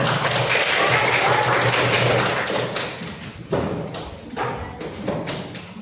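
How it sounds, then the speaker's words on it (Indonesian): Students in a classroom clap for a presenting group, a thick wash of hands at first that fades and breaks into scattered slaps and dull thumps toward the end. "beri tepuk tangan dulu untuk kelompok 5"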